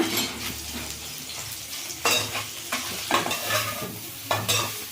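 Soya chunks stir-fried with a little salt in a pan crackle and hiss while a spatula scrapes and clinks against the metal in irregular strokes, fairly close with no talking.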